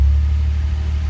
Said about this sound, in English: revs up the engine for some reason